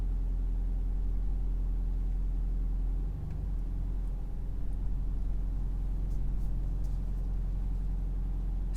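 A Volkswagen Golf 8 R with the Performance Pack pulls away gently from a standstill, its engine a low, steady interior rumble with little revving.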